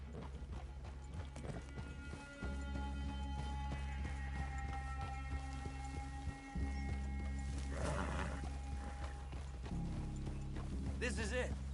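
Horses in the Western video game Red Dead Redemption, with hooves clip-clopping under a steady low rumble and a brief whinny, quiet and spread out, while voices talk over it.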